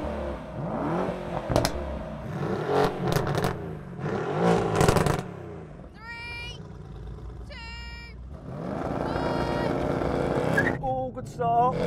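A Mercedes-AMG E63 S and a GT R launch in a drag race, engines roaring and revving hard with rising gear-change whines, loud and close, while someone talks over the acceleration.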